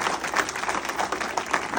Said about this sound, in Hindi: अब थोड़ा आप लोग ताली पे कंट्रोल रखिएगा